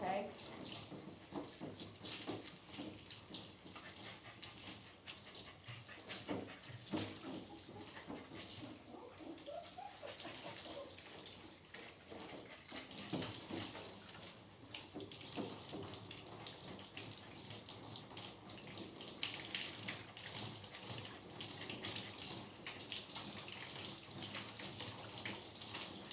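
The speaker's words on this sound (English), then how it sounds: "I'm going to rinse the tub here" Water runs steadily from a tap while a bathtub is rinsed out during dog grooming, a continuous splashing rush with someone talking over it.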